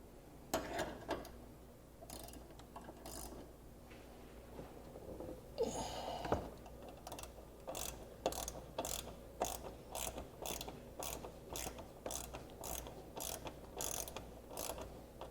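A hand ratchet turns a bolt during engine removal on a GM 3.6L SUV, clicking in a steady run of quick ratcheting strokes after some scattered scraping and handling noises, fairly close and clear.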